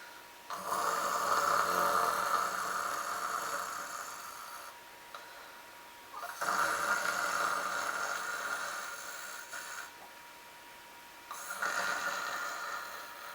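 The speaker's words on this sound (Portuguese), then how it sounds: "o vovô estava dormindo profundamente na cama de baixo do beliche, no quarto do menino, roncando pela Inglaterra" An elderly man snores loudly in deep sleep on a lower bunk bed, three long rasping breaths separated by short quiet pauses, steady and close.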